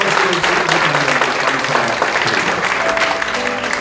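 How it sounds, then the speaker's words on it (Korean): A church congregation applauds in thanks and congratulation during an ordination service, a loud, dense wash of clapping with murmuring voices mixed in, holding steady throughout. "네, 감사의 박수, 축하의 박수 한번"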